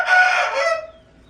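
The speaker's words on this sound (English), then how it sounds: "In this stall here, I got a couple of Malaysian chickens." A Malaysian chicken crows once in a barn stall, a single loud close call that fades out after under a second into quiet.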